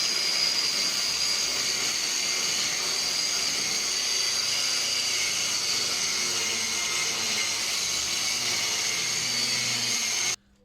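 A grinder grinds bolts off inside a new woodworking-business workshop, a loud, steady, unbroken whine and hiss that holds for about ten seconds before cutting off abruptly at the end.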